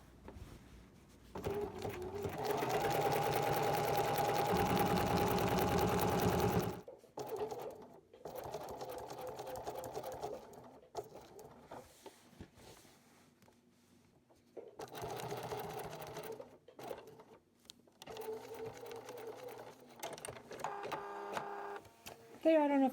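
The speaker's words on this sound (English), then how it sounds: "I think I might use a different color thread in each triangle and zigzag around them" A home sewing machine runs in steady bursts, zigzag stitching around fused fabric triangles on an art quilt, with a long loud run at first, then shorter stop-start spells and someone talking quietly between them.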